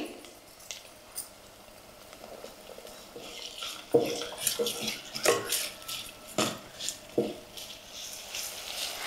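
Raw green mango pieces are stirred into a hot tempering in a pan for sour dal, a ladle scraping and clinking against metal in a series of soft irregular knocks over a quiet sizzle.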